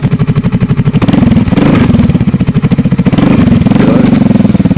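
A motorcycle fitted with a V-Lane Carbon 370 carbon exhaust and its silencer runs loud and close, a deep, rapid, evenly pulsing engine note that swells twice with light revs and then settles back, with no voices.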